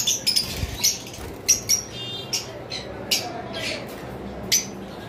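Caged pet lovebirds give repeated sharp squawks and chirps in short bursts, near and fairly loud, with brief flutters of wings between calls over a faint background hum.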